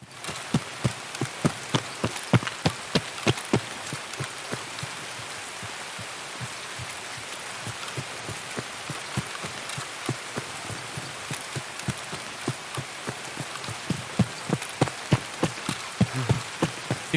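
Rain falls in the video game Escape From Tarkov, a steady close wash of rainfall with frequent sharp drip and tap impacts scattered throughout, continuous and unaccompanied by talking.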